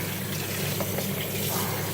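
Cold tap water running steadily over rice flour noodles in a sink, a continuous close splashing rush with no pauses.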